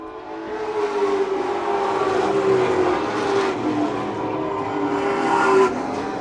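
Late model race cars roar around a track in a continuous, loud engine drone with rising and falling pitch as they pass in a pack, steady throughout with no talk.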